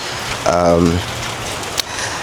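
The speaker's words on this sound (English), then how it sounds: "So I'm out here, it's actually raining, but I'll try my best." Rain falls steadily on a street outdoors, a constant broad hiss that a short burst of speech cuts into near the start, followed by a brief sharp tap.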